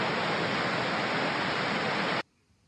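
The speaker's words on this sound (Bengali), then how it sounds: "পানির এই স্রোতধারা আর পাখিদের এই কিচিরমিচির শব্দে মনটা একদম ভরেই" Water rushing steadily along a stream in Kurpark Oberlaa, a park, as a loud, even, broadband wash that stops abruptly near the end; no distinct birdsong stands out.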